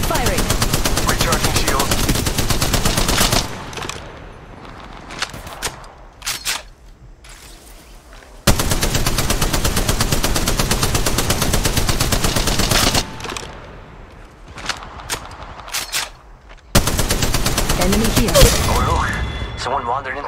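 Automatic gunfire in Apex Legends Mobile played on an iPhone 14 Pro, long loud bursts of rapid shots broken by short pauses with clicks and mechanical handling sounds, plus game voice callouts.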